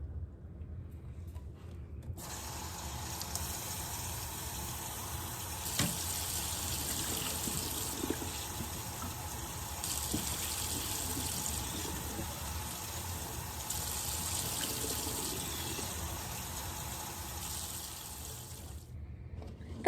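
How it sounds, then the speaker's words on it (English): Tap water runs steadily into a sink while canned garbanzo beans are rinsed in a colander, a soft constant splashing hiss that starts suddenly and continues unbroken for most of the span before stopping. "You're going to wash them until all that foam that you see is gone."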